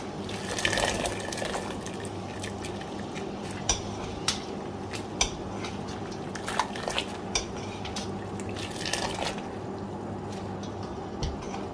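Vegetables are blanched in a pot of water and scooped out while pickling dandelion greens, with scattered close clinks of utensils on cookware over a steady background wash and no talking.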